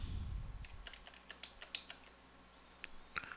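Quiet clicks of a computer keyboard come in a loose, uneven run of separate keystrokes, one of them a firmer press, heard close against a soft background hush.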